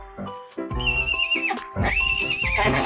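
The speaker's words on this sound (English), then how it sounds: "It's a horse." A horse neighs loudly in a long, shaky whinny, then a second whinny rises and trails off, close and clear with no talking.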